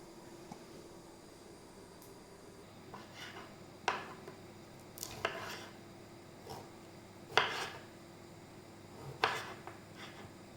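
A knife halves ripe red tomatoes on a board in a home kitchen, giving a few soft, separate cutting taps spaced seconds apart, quiet and without talk.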